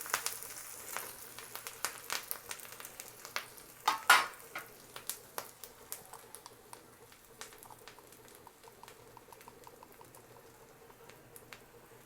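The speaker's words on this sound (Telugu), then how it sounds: "మొత్తం అంతా బాగా వేగే వరకు వేయించుకోవాలి" Gooseberry (amla) pulihora pickle seasoning fries in a pan with curry leaves, a steady bubbling sizzle with scattered sharp crackles and pops, one louder burst near the start, settling into a softer continuous frying hiss.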